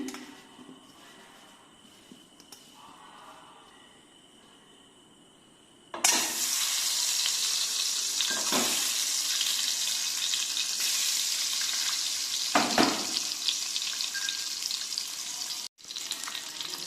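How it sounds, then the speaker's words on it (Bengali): Eggs and potatoes seasoned with salt and turmeric fry in a pan and are stirred. A quiet stretch gives way to a loud, steady sizzle, and a few scraping stirs break through the close, continuous frying. "ডিমগুলো নেড়ে চেড়ে ভেজে নিচ্ছি।"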